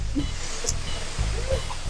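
Rushing water from a waterfall feature aboard the Carnival Magic cruise ship, a steady broadband roar close by, with faint voices in the background.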